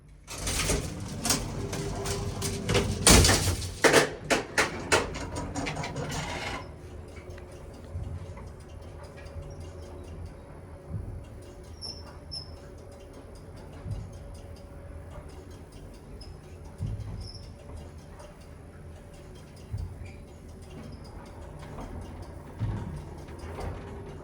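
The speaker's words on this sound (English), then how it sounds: "That's the machine right there. This is bottom drive traction." An old Otis bottom-drive traction elevator machine runs, starting with a dense burst of clattering mechanical ticks and knocks, then settling into a low, steady hum with faint, scattered ticks and clicks.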